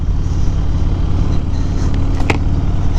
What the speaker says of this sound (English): Out for a ride on my two-wheeled machine, my 2013 Harley Davidson Dyna Fat Bob.